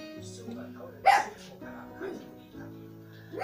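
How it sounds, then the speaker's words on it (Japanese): A dog gives a single sharp bark, then softer yips, over Japanese TV news chatter while a sumo stablemaster appears on screen indoors. "この親方が出るとノエル吠えるんですよね"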